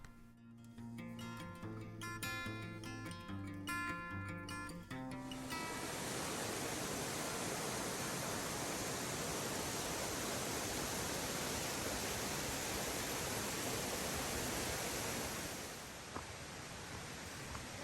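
Lands Run Falls in Shenandoah National Park roaring steadily as a dense, broad rush of falling water after a few seconds of quieter ambience, continuous and close with no voices.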